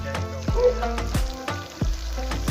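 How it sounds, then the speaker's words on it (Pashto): Chicken frying in oil in a pot for Pakistani street-style chicken karahi, a steady crackling sizzle under a few recurring low thuds spaced about half a second apart, with faint voices in the background. "دا چرګ اوس غوړو کې تک سور شي"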